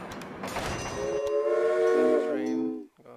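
A train departs in the railway-building video game Railway Empire, its loud horn sounding sustained steady tones for about two seconds over rumbling rail noise before cutting off abruptly.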